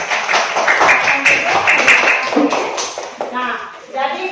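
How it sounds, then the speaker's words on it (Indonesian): A group of children claps hands in a classroom, bursts of uneven clapping with shuffling and tapping mixed in, while voices talk over and around it. "Boleh tepuk tangan dulu."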